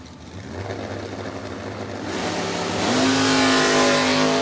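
Door-car drag racers launch off the line at a drag strip, their engines building from a rumbling rev into a loud, sustained roar that climbs in pitch as they pull away.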